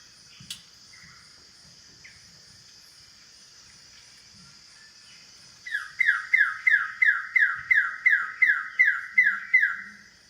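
A whistler bird in Indonesia sings a rapid series of loud, clear, rising whistled notes, repeated about a dozen times in quick rhythm, with a steady insect drone and faint earlier chirps behind it.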